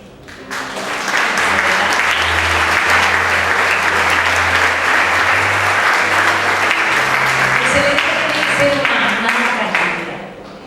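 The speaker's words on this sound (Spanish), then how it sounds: "Yo quiero que se den un aplauso a ustedes" Sustained applause from a church congregation during a Sunday sermon, loud and steady for about ten seconds, with a low hum and faint voices underneath before it tapers off.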